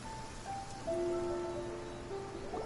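Rain patters down in the video game Genshin Impact, a soft continuous hiss of falling water with gentle melodic game music tones threaded through it, steady and moderately quiet with no speech.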